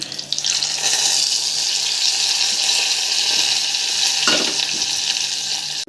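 A masala curry bubbles and sizzles steadily in a pan on the stove, a dense continuous frying hiss running throughout with a brief clatter near the end.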